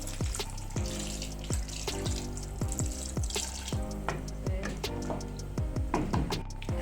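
Water runs from a kitchen tap in a home, a steady close splashing stream with scattered clinks and drips over it, continuous and fairly loud.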